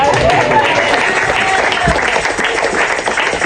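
A church congregation applauds and cheers loudly and steadily through a worship service. The applause stays dense and constant from start to finish, with crowd voices mixed in.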